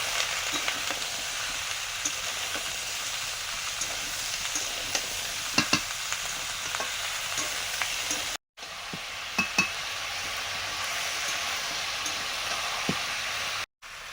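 Mixed vegetables sautéing in oil with salt, turmeric and chili powder, a steady close sizzle and frying hiss with occasional stirring scrapes and faint clinks, two brief dropouts breaking the sound.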